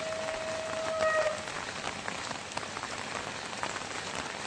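Heavy monsoon downpour after days of nonstop torrential rain pours steadily and close, a dense hiss of drops pattering on surfaces with a faint brief tone near the start.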